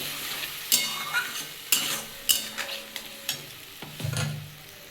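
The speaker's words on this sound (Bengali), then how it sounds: "দইটা দিয়ে ভালো করে আমি এবার একটু কষিয়ে নেবো" Chicken curry with yogurt, sugar and salt is sautéed in a pan, with a frying hiss under repeated loud scraping stirs and clanks of a spoon against the pot, close and without talk.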